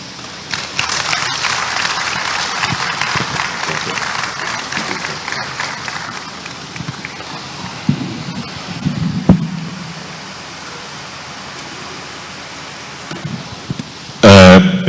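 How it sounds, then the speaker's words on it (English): Applause from an audience at an AGM opening ceremony, a broad steady wash of clapping for about six seconds that thins out and fades into quieter room noise, with a brief loud burst at the very end. "Bigger round of applause for Dr. J.Y. Mahama."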